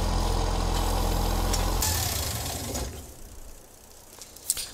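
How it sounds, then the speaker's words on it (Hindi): A New Holland 3630 tractor engine idles in Farming Simulator 22, a steady low mechanical hum that continues alone, then drops to a quieter, thinner drone partway through. "यार ये मैंने स्टार्ट किया था ट्रैक्टर भूल गया इसको बंद करना"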